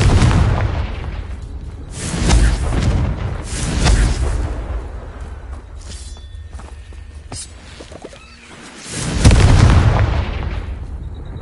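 Confringo blasting curse from the game Hogwarts Legacy, heard as a few loud booming blasts with a rumbling tail, separated by quieter stretches.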